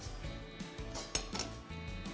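A cooking pot is handled in a kitchen while beans are being prepared. Soft metallic clinks and knocks come close by at an uneven pace, with one sharper clank near the middle and no talking.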